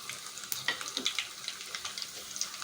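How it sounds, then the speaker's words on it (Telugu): Cumin, garlic, curry leaves and dried red chillies hit hot oil for a village-style lentil rasam tempering, giving a close, continuous crackling sizzle with sharp pops and no talking. "ఇప్పుడు తాలింపు వేసేసుకుందాం. నూనె కాగింది కదా, ఇవి వేసేసుకుందాం ఇందులో."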